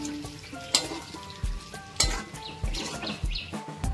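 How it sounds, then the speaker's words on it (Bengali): Fried ridge gourd is stirred into a sizzling pan with besan, producing steady frying hiss and repeated scraping, clanking strokes of a spatula against the metal pan, close and fairly loud. "এবারে আমি দিয়ে দেবো এতে ভেজে রাখা ঝিঙেগুলো, দিয়ে ভালো করে মিশিয়ে নেব।"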